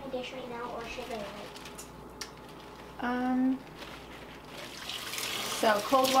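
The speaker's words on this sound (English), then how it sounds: "So cold water, I'm going to rinse it." Cold tap water running into a kitchen sink to rinse vegetables for kimchi, a soft continuous stream and trickle, fairly faint, under intermittent talking.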